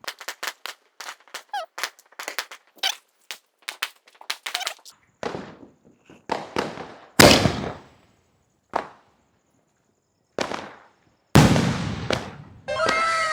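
Diwali firecracker shots burst outdoors: a rapid string of sharp cracks gives way to several loud, booming explosions spaced a second or more apart, some echoing and trailing into crackle.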